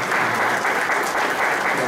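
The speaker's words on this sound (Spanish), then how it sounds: "Tal vez le damos un aplauso." Applause at a closing event: a short, loud, even wash of many people clapping at once, with no pauses.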